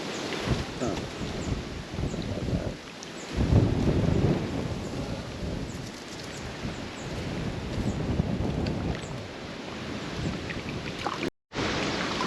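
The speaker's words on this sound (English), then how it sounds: "literally waiting around here, but it's freaking windy" Strong wind buffets the microphone on a windy fishing day in Hong Kong, a loud, continuous roar with gusting swells and rumble throughout, briefly cutting out near the end.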